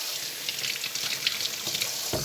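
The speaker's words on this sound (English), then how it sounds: "just rinse my hand" Water running from a kitchen tap while a hand is rinsed, a steady hiss of flowing water with splashy fluctuations, close and fairly loud, no talking.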